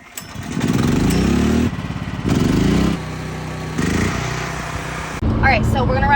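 A dual-fuel portable generator running on gasoline, which can also run on propane, drones loudly and close by, with brief dips and shifts in its steady engine note; a voice speaks over it.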